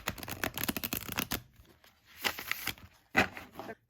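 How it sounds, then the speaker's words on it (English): Zombie Tarot cards of thick cardstock shuffled by hand, several quick bursts of riffling and sliding card noise, close and fairly quiet, with short pauses between. "let's go ahead and give these a shuffle."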